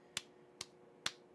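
Three slow, sharp hand claps spaced about half a second apart, each a crisp isolated smack against a quiet room, in a mocking pity-clap rhythm.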